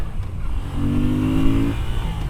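Moto Guzzi V7 Sport motorcycle engine pulling hard from the rider's position during an overtake, a steady loud drone rising in pitch as it accelerates under wind noise.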